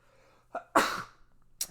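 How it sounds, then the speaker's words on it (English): A single close sneeze bursts out after a quick inhaling breath, followed by a short breathy sound. "I'm about to sneeze, I think."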